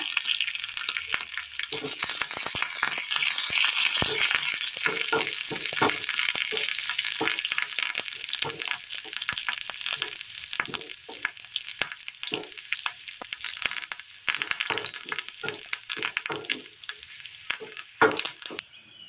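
Chili and curry leaves sizzle and crackle in hot tempering oil for a curry, a loud, dense frying hiss with sharp pops and bursts that flare and settle unevenly throughout, close by and without speech.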